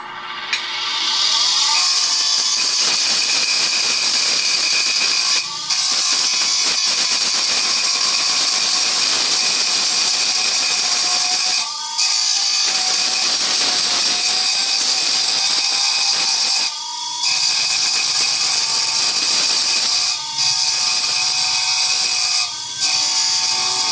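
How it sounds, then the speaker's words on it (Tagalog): A handsaw is sharpened with a diamond tile-cutting disc, a loud, continuous high-pitched grinding whine that holds steady for long stretches, broken by several brief pauses where the disc lifts off the saw teeth. "Ang gamit natin panghasa, diamond dish, pang tiles."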